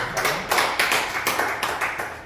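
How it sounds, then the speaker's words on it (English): Applause at a vision alignment workshop in a small room, a modest group clapping in uneven bursts with a few sharper swells, no voices over it. "Let's give applause for Jasim."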